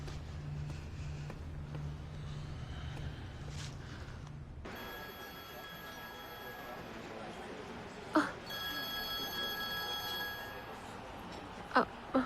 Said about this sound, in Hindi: मेरी माँ का फोन है।